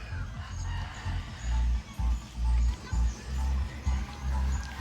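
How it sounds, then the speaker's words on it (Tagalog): Chickens clucking and a rooster crowing in short bursts, fairly close, over a busy outdoor background with some faint voices. "Yung may bitbit ng mga manok na pula"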